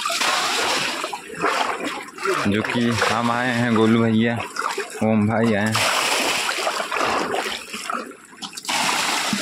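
Water splashes and sprays over a tractor as it is washed in a village river, a loud, continuous wash of water with people talking over it in bursts.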